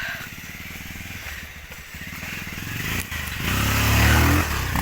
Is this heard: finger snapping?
no